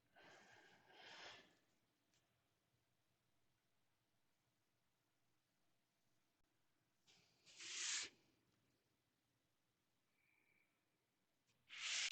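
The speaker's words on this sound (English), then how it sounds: "I'm going to draw all the way around my shape" A pen drawing around a shape on a plastic template gives three short, scratchy rubbing strokes in an otherwise quiet room, separated by long pauses.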